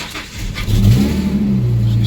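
A 40th-edition Ford Mustang with about 162,000 miles starts up, its engine catching and settling into a loud, steady idle close by, alone without talk.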